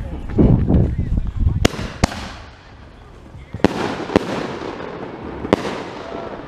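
Black Cat fireworks at a July 4th backyard show pop off in double and single shots, five sharp loud cracks spaced across several seconds, with excited voices and crowd noise in between.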